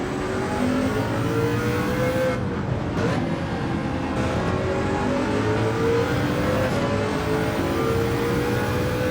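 A Mercedes CLK LM 1998 race car in Gran Turismo 7, lapping Spa, holds a loud, close, sustained engine note that climbs in pitch and drops briefly at several gear shifts, heard alone with no talk.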